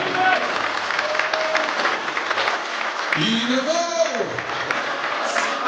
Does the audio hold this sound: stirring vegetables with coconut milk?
no